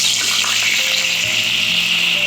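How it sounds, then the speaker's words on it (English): A steady, loud sizzle of wine hitting a hot pan, a continuous hissing crackle that holds throughout. "It's going to sizzle."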